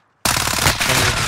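A rapid burst of automatic gunfire from a fast-firing weapon in Call of Duty Warzone, loud and close, starting abruptly after a short silence and rattling on continuously.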